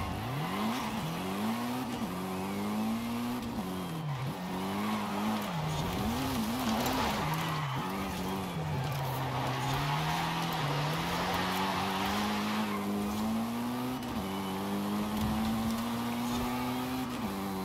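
A fast car in a racing video game roars with a rising and falling engine whine, punctuated by tire squeals and skids as it drives hard through corners.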